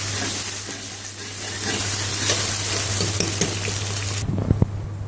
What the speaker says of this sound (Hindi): अब मैं इसमें लहसुन और अदरक का पेस्ट डालने लगी।